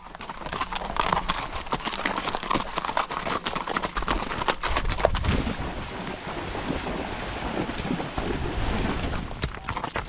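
Horses walk a long trail at an Arizona dude ranch, their hooves clip-clopping in irregular close taps under steady outdoor wind noise, with no talk.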